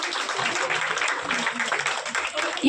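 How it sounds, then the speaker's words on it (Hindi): An audience at a women's club oath-taking ceremony breaks into applause, a scattered, moderately loud patter of clapping with a murmur of voices mixed in. "एक बार जोरदार तालियां बजनी चाहिए"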